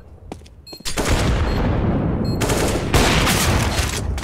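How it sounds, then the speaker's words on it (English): Gunfire in CS:GO: a few sharp shots, then a loud, sustained burst of rapid automatic fire that fills most of the clip, close and dense, with no talk over it. "He was shooting at me and got me."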